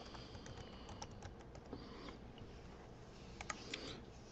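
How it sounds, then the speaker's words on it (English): Soft, quick clicks of a computer keyboard come through as an email address is typed, with a few keystrokes slightly louder, all faint and close. "And you gotta type in your email."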